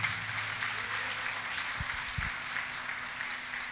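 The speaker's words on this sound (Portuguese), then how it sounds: "Vamos aplaudir a palavra de Deus." A church congregation claps together as a soft, steady patter of many hands, fairly distant and even, with a couple of brief low thumps partway through.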